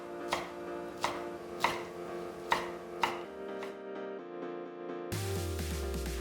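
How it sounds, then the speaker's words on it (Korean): Oyster mushrooms sliced into 1 cm pieces on a cutting board, five evenly spaced knife chops on the board, close and fairly quiet, followed by a few seconds of faint tonal background. "느타리버섯 100g은 흐르는 물에 씻어 물기를 털고 먹기 좋게 뜯어서 1cm 길이로 송송 썰어 따로 담고"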